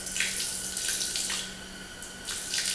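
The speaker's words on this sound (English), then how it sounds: "So I'm going to add just a little bit of water." A little water pours into a bucket of drywall texture mud during wall texturing, a soft close trickle with a few brief splashy bursts over a steady low hum.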